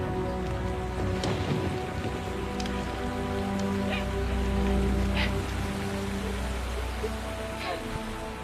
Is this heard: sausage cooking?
no